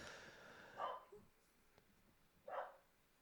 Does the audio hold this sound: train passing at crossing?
no